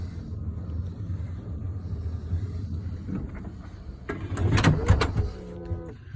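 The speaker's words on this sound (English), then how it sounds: "So now if I push this button, you're gonna see the door will close." Powered vehicle door closing at the push of a button on a wheelchair-ramp vehicle, a low motor hum followed by a louder whirring and clunk near the end, heard alone without talk.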